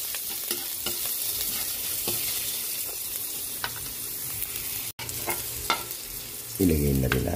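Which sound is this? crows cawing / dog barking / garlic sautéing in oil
garlic sautéing in oil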